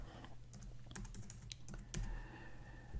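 Quick, quiet keystrokes tap on a computer keyboard in a short irregular burst, with a few louder presses and no talking.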